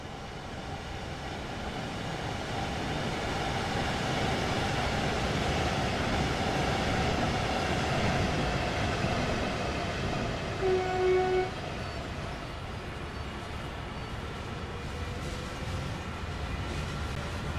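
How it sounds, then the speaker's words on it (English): A locomotive coupled to tanker wagons on the German Rhein-Ruhr Osten route in Train Sim World 3 drones steadily and continuously at close range, with a brief tone near the middle and no voices. "With the tankers now coupled to the locomotive, we need to couple them to the next set of tankers to form a complete train."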